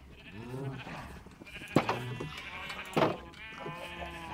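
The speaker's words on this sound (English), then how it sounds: "there's just a bunch of sheep here of all the different wool colours" Several Minecraft sheep of different wool colours bleat near a farmhouse in the game, with a few wavering calls rising over a faint background, including two sharper, louder bleats.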